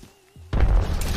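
An arc star grenade in Apex Legends detonates with a sudden loud, close boom and a crackling burst after a brief quiet moment.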